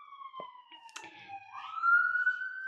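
A distant emergency siren wails in rising and falling tones, fairly faint, with a couple of small clicks nearby and no talking.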